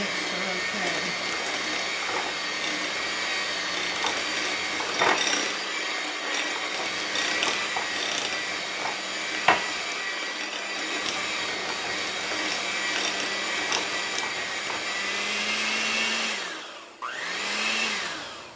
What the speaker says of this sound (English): let's see if we can mix that in with the mixer okay.